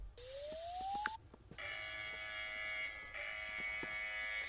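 An emergency alert system alarm from one country: a rising tone sweep gives way to a loud, sustained multi-tone electronic blare that shifts pitch partway through, with faint clicks underneath.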